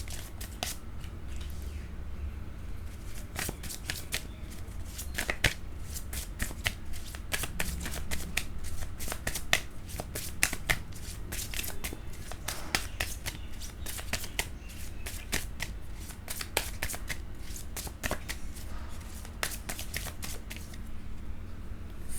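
A deck of tarot cards is shuffled close up, with quick riffling bursts and sharp card slaps repeating in uneven rhythm over a low background hum.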